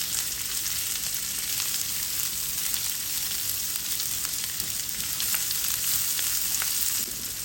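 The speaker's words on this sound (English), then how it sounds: "Stir until the onion becomes translucent." Chopped onion fries in a hot pan while being stirred, giving a steady, loud, close sizzle with faint scraping under it and no talking.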